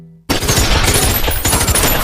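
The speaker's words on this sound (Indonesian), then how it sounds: "Hingga terjadi aksi tembak-tembakan." Gunfire shootout during a robbery scene in a film: a sudden, loud burst of rapid automatic shots that continues densely, with a brief dip before more firing.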